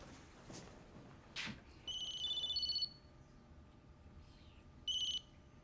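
A mobile phone rings with short electronic tone bursts, two longer chimes and a brief final one, fairly clear over a quiet indoor room with no talking.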